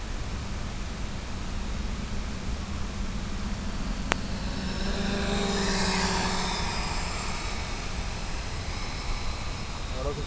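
An aircraft flies a demonstration pass, a broad roaring engine noise that swells and sweeps past in the middle before easing, heard under steady wind-like hiss.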